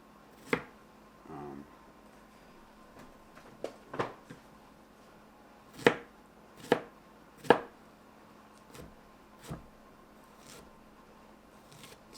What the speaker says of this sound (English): So now I'm just going to chop these strawberries up because they're going to go into the filling.